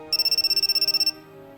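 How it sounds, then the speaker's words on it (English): A phone rings with a rapid trilling electronic tone lasting about a second, loud and close, then stops, leaving a soft musical background underneath. "Suddenly my phone rang."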